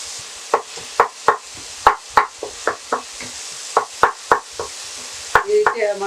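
Cooked tomatoes being mashed in a pot of Karnataka-style drumstick sambar give off a series of about a dozen close, irregular soft thuds and squishes, with a brief bubbling patch near the end.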